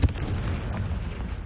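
A Confringo fire spell from Hogwarts Legacy goes off as a short, heavy, booming blast followed by a low rumbling tail, loud and close, with no talking.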